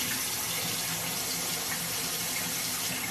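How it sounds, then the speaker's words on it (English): Steady broadband rush of tap water running into a sink while oil is rinsed off a face, continuous and fairly close, with no voices. "I'm just gonna rinse off that little oil layer."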